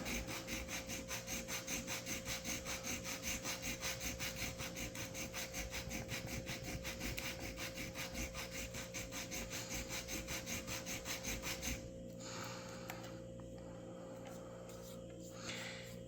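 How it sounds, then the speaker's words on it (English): Sandpaper works a bevel into the wooden transom of a Model Shipways Norwegian sailing pram model, making steady, rapid back-and-forth rasping strokes at close range for about twelve seconds before stopping, leaving only faint rubbing afterward. "And we need to sand that bevel in."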